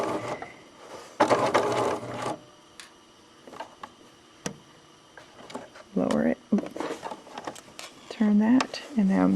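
A sewing machine backstitches over thin yarn on a handmade softie, its short mechanical bursts of stitching broken by pauses, with a person talking in between.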